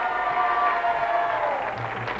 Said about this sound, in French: On peut applaudir Thierry Marie, s'il vous plaît.